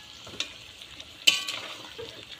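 Chickpeas, a mix of kabuli and red varieties, fry in hot oil. A steady low sizzle runs throughout, broken by a few stirring scrapes, one of them sharp and louder partway through.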